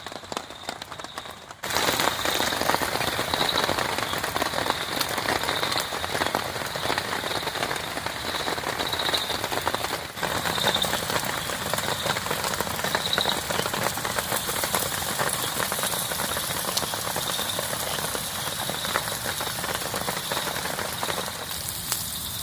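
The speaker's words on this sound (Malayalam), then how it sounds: "പുറത്ത് നല്ല കിടിലം മഴയും. പടക്കം പൊട്ടുന്ന പോലെ മഴത്തുള്ളി വന്ന് വീണേ." Heavy rain pours down outside a riverside camp, drops pattering hard and steady as a loud, continuous wash that begins after a brief quiet moment and never lets up.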